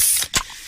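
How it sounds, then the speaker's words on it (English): A freshly opened Pepsi gives a close, loud fizzing hiss with a short sharp burst of escaping gas partway through, then the carbonation keeps fizzing steadily. "that's the sound of a freshly opened fizz-filled Pepsi"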